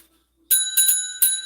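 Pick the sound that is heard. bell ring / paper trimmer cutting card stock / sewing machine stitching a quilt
bell ring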